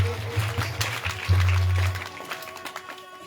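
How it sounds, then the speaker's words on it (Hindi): A crowd at a Ram katha discourse on the Laxman Shakti episode claps in a dense, steady patter, with a low sustained hum beneath it; the clapping slowly thins toward the end. "एक बार जोरदार ताली बड़े भाव से"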